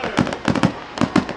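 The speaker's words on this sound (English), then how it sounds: "And the fireworks continue." Fireworks bursting at a high school football game between the Crestview Bulldogs and Navarre Raiders, a rapid string of sharp cracks and pops in quick clusters, loud and close with a faint crowd wash underneath.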